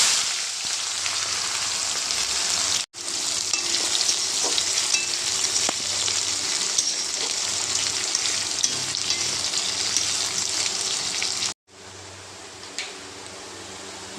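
Onions fry in hot oil with whole spices in a pan for chicken curry, a loud steady sizzle broken by two brief silent gaps, with occasional stirring scrapes.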